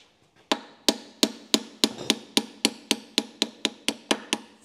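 A hammer taps a pin out of a Sunbeam 1000HP gearbox during restoration work at a motor museum: about a dozen sharp, close metallic strikes in a steady rhythm, each ringing briefly, with no talk.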